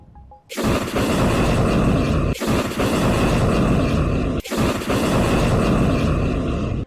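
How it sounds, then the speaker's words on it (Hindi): A Hezbollah rocket barrage launches toward the Manara settlement, three loud, sustained roaring whooshes that each start abruptly and run for about two seconds, back to back. "हिजबुल्लाह ने सबसे पहले मनारा सेटलमेंट पर रॉकेटों का एक जत्था फायर किया, जिसका एक वीडियो भी सामने आया है।"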